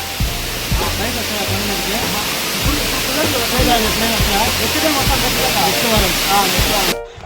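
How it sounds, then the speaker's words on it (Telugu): Rushing water roars steadily like a waterfall, a broad constant hiss, while people talk over it throughout. "మొత్తానికి అయితే వాటర్ ఫాల్ దగ్గరికి వచ్చేసినాము"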